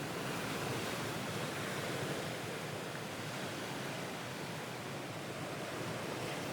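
Ocean waves wash in a steady, unbroken roar of surf with no distinct breaks, a dense and even rush heard alone without any voices.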